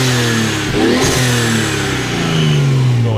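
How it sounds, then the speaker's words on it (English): A 1969 Triumph TR6 fitted with a Nissan Skyline turbo inline-six revs hard and close, its engine note climbing and sliding back down over a constant throaty exhaust drone, with no talking. "Go ahead and rev it up pretty good."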